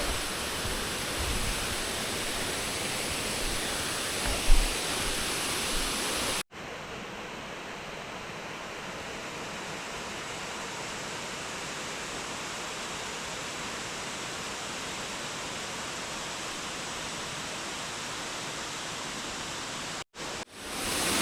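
The Erakampalem waterfall near Rajahmundry and Kakinada, with steps alongside; its constant broadband rush fills the scene, steady and enveloping, with a brief thump early and an abrupt cut partway through.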